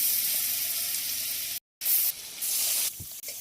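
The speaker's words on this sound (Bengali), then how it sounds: "এবার পনিরগুলো ভাজার জন্য দিয়ে দেবো।" Paneer pieces frying in butter in a kadai for butter paneer hiss with a continuous sizzle, broken by a brief silent gap and shifting intensity.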